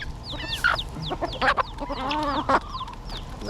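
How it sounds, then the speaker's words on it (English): Chickens and a young chick cluck and peep busily at close range, a steady chatter of short calls from several birds, crowded together at feeding time in the Florida Keys. "Let the little chicken in."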